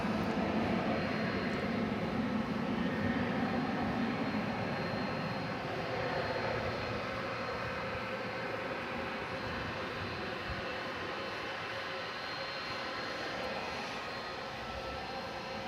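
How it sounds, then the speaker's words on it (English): A 21-year-old Airbus A300 on flight 793 to Louisville roars steadily at DFW Airport at night, a broad, continuous jet rumble holding near and loud throughout, easing only slightly toward the end. "This is an A300"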